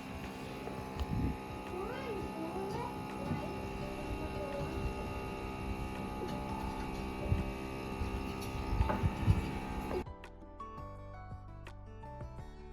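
Young farm kittens with newly opened eyes mew faintly a few times over a steady mains hum, followed by a quieter stretch.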